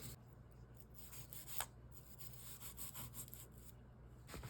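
A brush scrubbing the bolt of a Savage Model 64 .22 LR semi-automatic rifle, heard as a steady, faint, close scratchy rubbing with short back-and-forth strokes over a low background hum.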